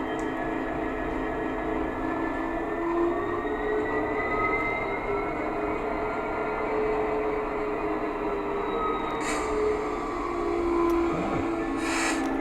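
A continuous low diesel engine hum with rail-like rumble from a digital sound-equipped Hattons Class 66 model locomotive, steady and moderate in volume, with a few faint clicks and hiss bursts near the end.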